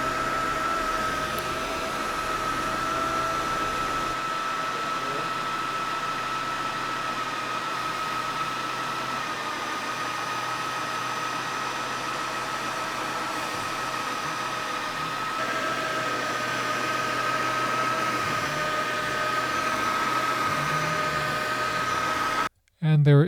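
A Roborock F25 ACE wet-dry vacuum runs on max mode over spilled peanut butter, a steady loud whirring motor hum with a constant high whine that holds evenly for the whole stretch before cutting off abruptly at the end.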